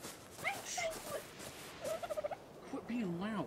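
Dodo birds in ARK: Survival Evolved give gobbling, turkey-like calls: a few separate squawks, then a quick run of pulsed clucks and a final warbling call, all close and moderately loud.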